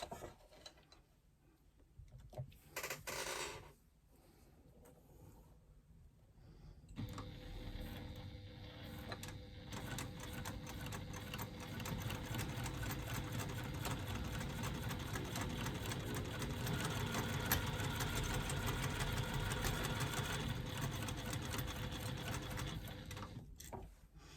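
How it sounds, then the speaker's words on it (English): A sewing machine topstitches across a zipper with an eighth-inch seam allowance, first a few short starts and then a long steady mechanical whir lasting nearly twenty seconds, heard close with no talking. "Then I'm going to top stitch across the top of my zipper, and I'm going to do that with an 1/8 of an inch seam allowance again."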